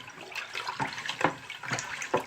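Water sloshing and splashing inside a bottle being rinsed out along with leftover syrup and sugar, in uneven close gurgling bursts, with no talking.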